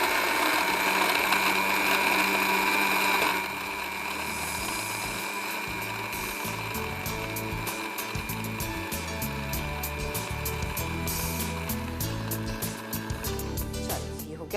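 A Philips home blender whirs steadily as it mixes badam pera lassi, a continuous motor drone with a mixing churn. It is loud and close, shifts slightly in pitch after the first few seconds, and runs without talk over it.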